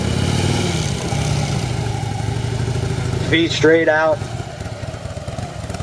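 A motorcycle engine idles with a steady low rumble as the rider duck walks it along, the hum running through the whole stretch beneath a voice talking over it.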